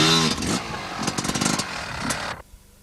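Enduro motorcycle engine revving hard during a 1998 Beacons Enduro race, a loud close buzzing roar that climbs and pulses, then cuts away abruptly into quiet.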